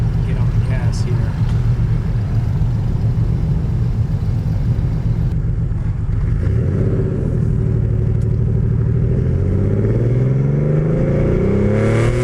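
A car engine rumbles steadily up close, then climbs in pitch as it accelerates, with the revving rising through the gears.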